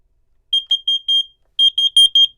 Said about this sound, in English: it lets me know that there's a CO alarm going off